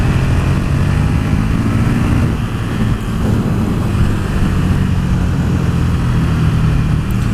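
KTM 1290 Super Duke R V-twin engine droning steadily and loudly throughout, a constant close ride-along hum with a brief dip in the middle and continuous wind rush over it.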